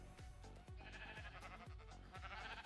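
Sheep bleating in the Minecraft video game: repeated wavering bleats, several overlapping in quick succession, steady and fairly loud against a dense game background.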